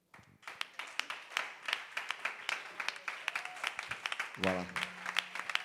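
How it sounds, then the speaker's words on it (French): At a church service, worshippers stand and clap together in a steady rhythm as an acclamation to the Lord. The close, sharp claps continue throughout while a voice speaks briefly over them. "qu'on puisse porter une acclamation au Seigneur"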